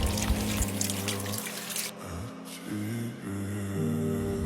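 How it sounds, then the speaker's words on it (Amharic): Water from a home tap splashes and trickles during washing, the flow steady but shifting in strength, with a soft tonal hum running underneath. "ውሃውን አታባክነው፣ ቀስ እያልክ ታጠብ"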